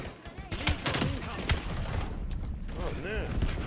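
AK assault rifle bursts in a first-person shooter video game, several short rapid volleys of close gunfire with sharp cracks, with game sounds and faint voices in between.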